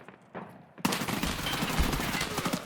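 Gunfire in the video game Escape from Tarkov, a few faint shots and then a sudden dense burst of rapid automatic fire that keeps rattling loudly to the end.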